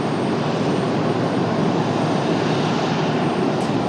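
An Airbus A220-300 airliner arriving at Raleigh-Durham airport, heard as a loud, broad, steady engine roar that holds evenly throughout, with no voices.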